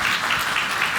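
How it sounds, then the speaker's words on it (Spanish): Audience at an electoral transparency panel applauding, a brief, dense burst of steady clapping that fills the whole moment. "Un aplauso, por favor."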